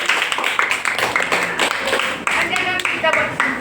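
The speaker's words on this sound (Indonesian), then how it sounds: "Terima kasih untuk kelompok 1 kita kasih aplaus dulu" A school class applauding a student group after its presentation, with a burst of many hands clapping nearby and talk mixed in among the claps.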